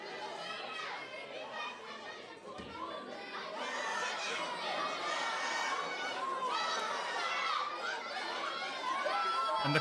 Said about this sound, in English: And the crowd here in Newcastle antagonising the superstar.